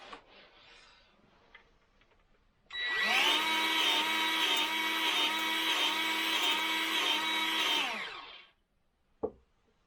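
A Milwaukee M12 cordless grease gun runs its motor in one steady, loud electric whine for about five seconds, starting abruptly and winding down, followed by a sharp click.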